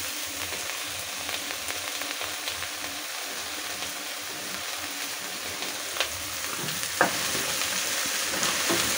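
Frying food gets stirred after black Himalayan salt goes in, giving a steady, close sizzle with occasional scraping clicks and small pops throughout.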